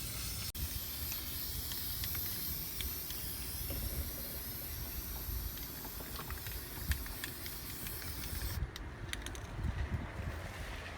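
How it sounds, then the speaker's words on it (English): A steady, continuous hiss of aerosol spray on rusted truck metal running for several seconds, broadband and fairly close, with faint rattling bits scattered through it. "just go ahead and spray all the rusted areas that you notice"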